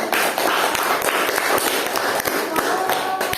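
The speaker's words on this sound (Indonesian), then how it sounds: "Tepuk tangan dulu dong buat kita semua." A classroom group of students applauding presenting groups: a steady patter of many hands clapping, close and fairly loud, lasting the whole few seconds.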